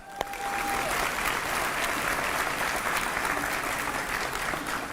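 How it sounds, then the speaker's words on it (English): Sustained applause from a large audience, steady and loud throughout, with no speech over it. "I think a huge round of applause goes to them"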